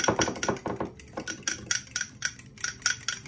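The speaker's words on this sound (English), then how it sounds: "I want to whisk it all together" A whisk beats a honey mustard mixture in a bowl, giving a rapid metallic clicking and tapping against the sides in quick bursts, close and fairly quiet with no talk.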